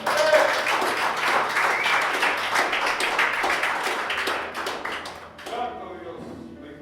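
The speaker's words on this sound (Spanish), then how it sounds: "Denle un aplauso a Dios." A church congregation applauds, a dense burst of many hands clapping that fades out toward the end, with some voices underneath.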